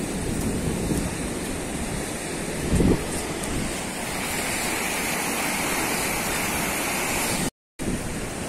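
Surf breaking at Watunene beach in Gunungkidul, Indonesia, near low tide: a steady broadband wash of waves with wind buffeting the microphone, one brief louder thump, and a short dropout near the end.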